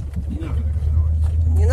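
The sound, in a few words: car accelerating while learning to drive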